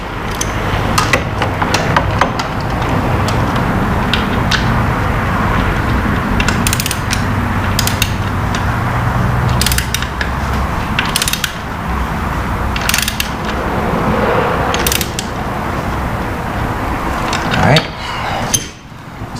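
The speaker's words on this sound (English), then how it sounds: "And then I'll ratchet down a bit." A ratchet tightening the drain bolt on a 2014 Yamaha FJR1300 during an oil change, a close, loud run of repeated clicking strokes with metallic clatter in between, a voice present at times.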